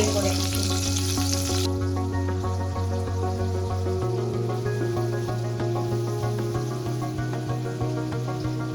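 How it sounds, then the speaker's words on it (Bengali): Julienned chicken fries in a pan with a loud, continuous sizzle and crackle, a strong low electrical hum running underneath throughout, no voices. "চিকেনটাকে ফ্রাই করে নিচ্ছি।"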